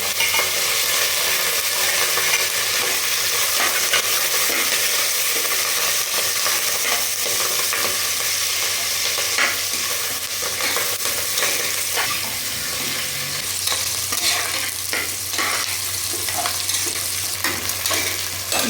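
Onion, chili and curry leaves fry in a pan for tomato rice, with a steady loud sizzle throughout and occasional scraping stirs layered on top.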